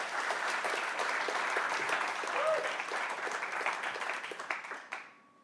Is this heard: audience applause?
yes